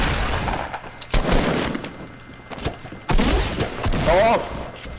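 Video game gunfire, including shotgun blasts, cracks out in several sharp, loud reports spaced through a noisy firefight, with voices shouting underneath.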